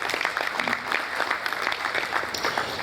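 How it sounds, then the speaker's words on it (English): Audience at a business roundtable on construction clapping together, a dense, steady burst of applause lasting a few seconds at moderate volume. "Round of applause for him once again."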